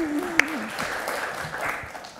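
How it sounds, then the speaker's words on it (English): An audience at a Melbourne talk event applauds with a soft steady patter of clapping, while a voice speaks over the start. "Round of applause."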